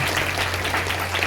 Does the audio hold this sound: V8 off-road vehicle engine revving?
no